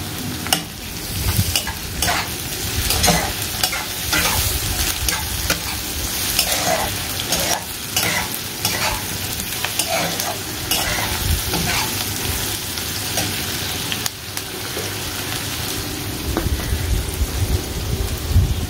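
Onions and sugar frying in a pan, a steady close crackling sizzle with scraping stir strokes that carries on throughout, no voices present.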